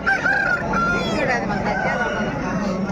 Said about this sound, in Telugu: పుంజు నెంబర్ వన్ పుంజు ఇది వచ్చేసి సుధాకర్ అన్న వాళ్ళ పుంజులు